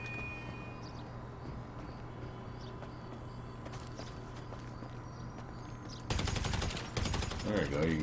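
Bursts of rapid gunfire erupt in GTA 5 on PS3 around the Vinewood Mall, starting after several quiet seconds with a steady background hum and a few faint knocks, then loud repeated volleys near the end.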